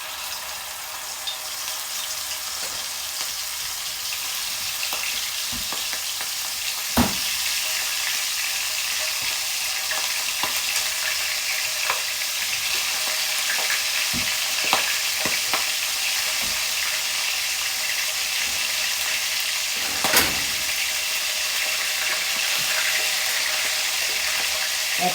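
Chicken livers frying in a pan of hot oil give a steady, dense sizzle throughout, broken by a few sharp pops and spits, with no talking.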